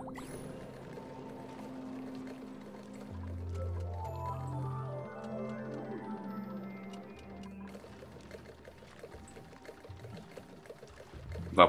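Water starting to drip and pour in the video game Oxygen Not Included, a soft liquid trickle with stepped tones that rises and then fades, heard alone and fairly quiet, ending in a brief louder click.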